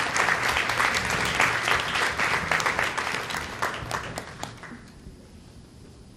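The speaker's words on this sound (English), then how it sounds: "Let's give our panelists a round of applause." A conference audience applauds panelists after a boardroom leadership panel, a steady, full burst of clapping from many hands that holds for about four seconds, then tapers off quickly into near quiet.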